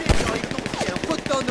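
Rapid automatic gunfire in the video game Grand Theft Auto V, a dense burst of repeated shots filling the whole moment at close, loud range, with shouting voices mixed in.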